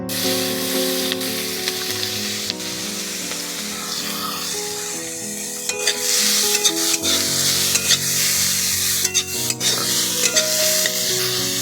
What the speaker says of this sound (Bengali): এই পেঁয়াজটা এখন ব্যারেস্তা করার জন্য ভেজে নিচ্ছি আমি লাল লাল করে